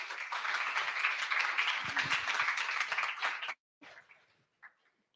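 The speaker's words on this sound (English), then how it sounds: "I would like you to give a very big applause to her so she can get on the stage" An audience applauds a speaker coming onto the stage at a product strategy talk, a dense, steady clapping that carries on for several seconds before cutting off abruptly, followed by a few faint scattered sounds.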